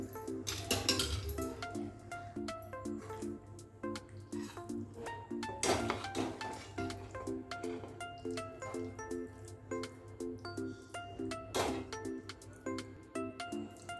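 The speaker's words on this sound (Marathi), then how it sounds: "आता प्लेटमध्ये मी काढून घेते" Red sauce vegetable cheesy pasta being scooped from the pan onto a plate, with soft wet squishes and the light clinks of a spoon against metal and ceramic, quiet and close, with a couple of sharper taps.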